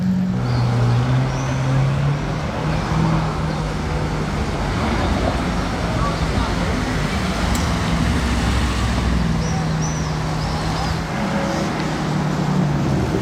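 A Ferrari 812 Novitec N-Largo sports car drives past at a racing circuit, its engine a broad, steady roar blended with loud traffic and road noise for over ten seconds, without any clear spoken words.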